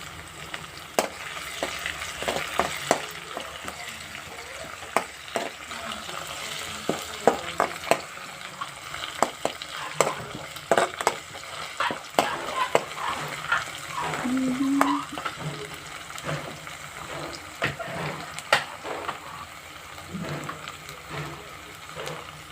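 Okra fries in a pan with curry leaves, a steady crackling sizzle punctuated by frequent sharp clicks and scrapes of a spatula against the metal, close and continuous throughout.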